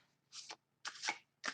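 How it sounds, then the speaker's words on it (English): Light Seer tarot cards are shuffled in three quick riffling bursts, close and crisp, separated by short silences. "using the Light Seer Tarot, I'm going to shuffle up the cards"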